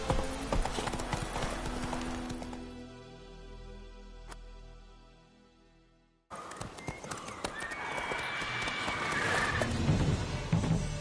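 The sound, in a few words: horse Roach trotting in video game The Witcher 3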